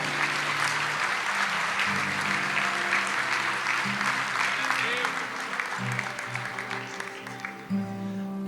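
A church congregation applauds steadily for several seconds, dense clapping filling the space while organ or keyboard chords sustain underneath.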